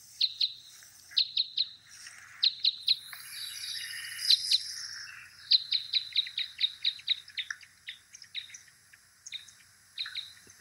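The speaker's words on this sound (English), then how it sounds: "And here's what it sounds like, flight call type five." Red Crossbill type five flight calls, a bird using both sides of its syrinx, repeated sharp high chips in quick pairs and clusters, clear and fairly close, continuing for several seconds over a quiet background.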